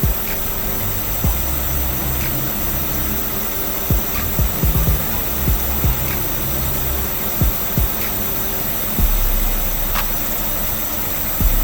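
Inside a Honda CR-V with a B20 engine, the heater blower fan runs with a steady, airy whoosh, broken by scattered soft knocks and clicks and no voices.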